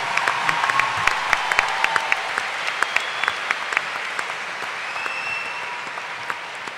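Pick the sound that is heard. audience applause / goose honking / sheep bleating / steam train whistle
audience applause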